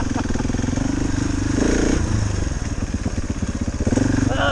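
KTM 690 Enduro R single-cylinder dual-sport motorcycle engine thumping steadily nearby, with rhythmic pulsing and slight rises in revs, loud and continuous without talk.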